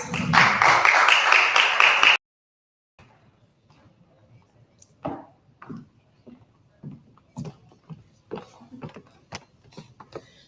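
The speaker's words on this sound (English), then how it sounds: "Give them a round of applause." Conference audience applauding as panelists walk onto the stage, a dense burst of clapping for about two seconds that cuts off abruptly, followed by scattered soft taps and knocks.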